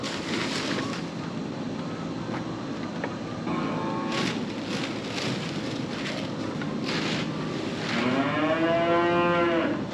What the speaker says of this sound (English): That one's Rosie's cow.